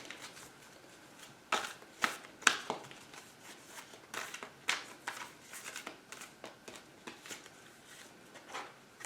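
Wisdom for Healing oracle cards are shuffled by hand close up, a series of soft riffling swishes and taps in irregular bursts, fairly quiet with no talking.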